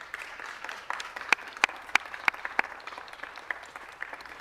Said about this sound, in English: Can you please join me in giving them a great round of applause?